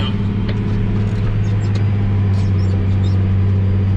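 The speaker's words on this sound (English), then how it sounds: "there's a good chance we're gonna spin right here" A farm vehicle in a muddy harvest field holds a constant heavy engine drone as its wheels spin in the mud. The low rumble stays loud and steady, with faint scattered clicks above it and no talking.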